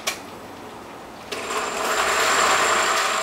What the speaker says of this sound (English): I'm going to take a few scoops at a time into the blender.